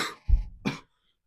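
A person blows their nose in two short bursts, a low thick snort followed by a sharper, breathier puff, close and loud, then silence.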